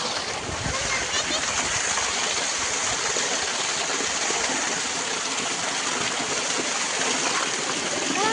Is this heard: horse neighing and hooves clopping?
no